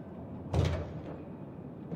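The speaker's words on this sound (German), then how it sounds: "Warum geht die Tür hier nicht auf?" A locked door in the game Conarium is tried, giving one sharp rattling thud as it refuses to open, followed by a faint knock and quiet ambience.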